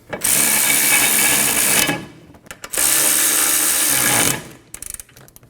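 A power tool or ratchet drives caliper bracket bolts on the rear brakes of a Scion xB, two sustained whirring bursts close up with short clicks between and after them.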